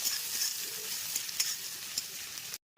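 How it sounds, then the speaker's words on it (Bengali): Sliced onions sizzle steadily in hot oil in a pan for a fish chop gravy, a close, even crackling hiss with a few small pops before it cuts off abruptly. "আর তার সঙ্গে দিয়ে দেবো বেশ কিছু পেঁয়াজ"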